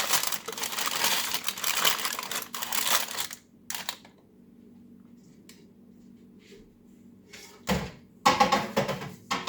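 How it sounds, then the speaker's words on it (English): Cling wrap handled in a kitchen for covering bread dough, a few seconds of close, dense crinkling and rustling, a quieter lull, then more sharp crinkles and a bump near the end. "we're going to use that cling wrap that we used already into the first rising dough"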